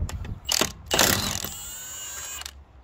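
A torque wrench ratchets while a car's wheel nuts are tightened, giving a few short mechanical clicks and clacks, fairly quiet and close, followed by a faint metallic ring.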